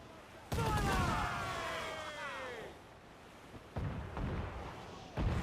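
Ship cannons fire in the pirate video game Assassin's Creed IV Black Flag, with heavy booming blasts that roll out and echo, followed by more shots, loud and close, with a crew's shouting voices mixed in.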